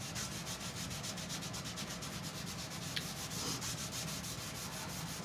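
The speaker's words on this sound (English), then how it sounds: "Let me put a thin coat of wax on here." A thin coat of wax is being rubbed onto a wooden Christmas directional sign, giving a steady, close scrubbing hiss with fast, even back-and-forth strokes that continue without a break.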